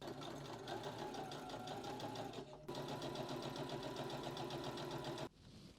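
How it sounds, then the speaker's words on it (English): A sewing machine stitches a yukata seam in a steady rapid mechanical whir, loud and close, with a brief pause near the middle before resuming, then stopping near the end. "And that's just by sewing it in just next to that crease there, instead of right up against it."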